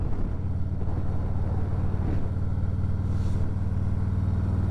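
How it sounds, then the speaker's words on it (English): Low, steady rumbling wind buffets the microphone continuously on Whiteface Mountain in the Adirondacks, a dull roar with no voices. "it is windy up here"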